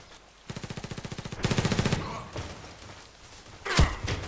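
Enemy gunfire rattles in a first-person shooter, Contract Wars: two rapid bursts of automatic fire, then scattered shots and a sharp, heavy bang near the end.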